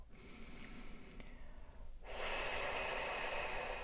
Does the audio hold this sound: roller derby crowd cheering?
no